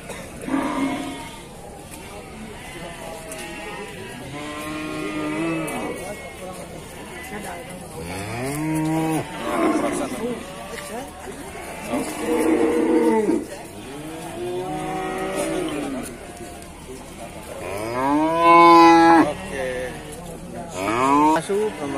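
Calves and cattle at a livestock market moo repeatedly in long, drawn-out calls, loud and close, against a busy background of crowd noise and passing engines.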